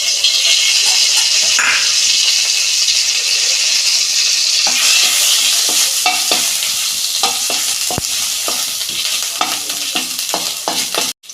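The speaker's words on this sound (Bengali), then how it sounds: "ফোড়ন দিচ্ছি একটা তেজপাতা একটা তেজপাতা আর আদা দিচ্ছি" Bay leaf and ginger are tempered in hot oil for carrot halwa, producing a loud, continuous close-up sizzle, with scraping stir strokes growing busier in the second half before it cuts off.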